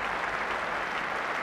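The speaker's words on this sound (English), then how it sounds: "Applause from Lamb at the non-striker's end." Steady applause from a cricket crowd at Lord's, a brief, even wash of clapping heard at moderate distance with no voices.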